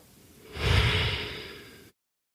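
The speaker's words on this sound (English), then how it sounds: "Exhale." A single long, breathy exhale at the close of a guided classroom mindfulness breathing exercise, rising quickly and fading over about a second and a half, close and clear with no talk.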